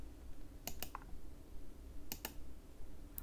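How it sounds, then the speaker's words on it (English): The left button of a Trust Rexx vertical mouse is clicked, giving a few sharp, close, faint clicks in pairs, heard alone in a quiet room. "let's click now with the left mouse"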